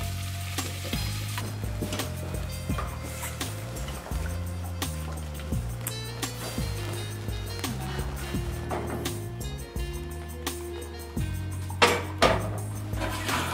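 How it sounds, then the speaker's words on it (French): Sliced carrots, celery and onion sizzle steadily in a pan, the crackle joined by a series of low thumps and clanks from cookware and stirring, with a few sharper clatters near the end. "So now we're going to add the vegetables that we've sliced."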